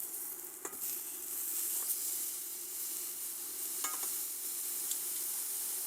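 A steak sears steadily on a NuWave Precision induction cooktop right after being flipped, a constant soft sizzle with a couple of faint clinks from handling.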